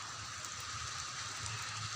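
Heavy rain pours down in a steady, dense hiss that fills the whole moment, loud and unbroken, with no talking over it.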